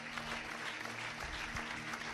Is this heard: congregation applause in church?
yes